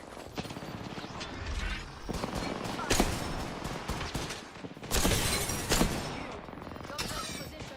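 Video game weapons fire in dense, rapid volleys with heavy mechanical clatter that swells at moments. A voice is heard faintly in the mix.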